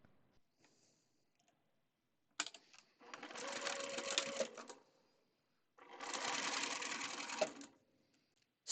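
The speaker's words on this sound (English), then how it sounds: "I'm going to sew a 1/4 of an inch seam all the way down." A sewing machine sews a quarter-inch seam in two steady bursts of a few seconds each, close and clear, with soft clicks and handling sounds in the quiet between runs.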